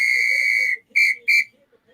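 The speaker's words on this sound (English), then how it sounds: "Sounds like we got a whistle on the play." Referee's whistle stops play during an NHL playoff hockey game between the Rangers and Penguins: one long shrill blast followed by two short sharp toots, loud and close, with faint arena murmur beneath.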